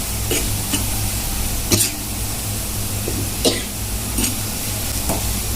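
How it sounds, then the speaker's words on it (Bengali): Garlic frying in oil for a satkora pickle, a steady sizzle over a low hum with several sharp spoon scrapes and stirring knocks against the pan spread through the clip. "আচারের রসুনটা একটু গাঢ় করে ভাজতে হয়"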